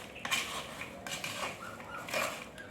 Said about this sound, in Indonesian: Tahap selanjutnya yaitu kita laksanakan pengadukan.